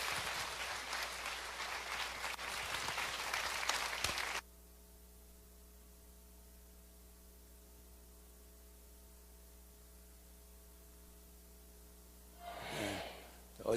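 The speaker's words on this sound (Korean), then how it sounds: "우리 김용희 선교사님 나오실 때 박수로 하나님께 영광 돌리시고" A church congregation applauds as a missionary comes forward, a burst of dense clapping for about four seconds that cuts off abruptly into low hum and near silence, with a brief noise near the end.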